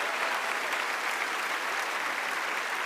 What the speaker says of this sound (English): Can we give these 7 people a big round of applause?